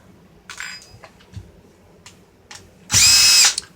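A power drill or driver working on the screws of a Toyota Tacoma radio and navigation unit: a short whir near the start, a few faint clicks, then a loud steady burst near the end.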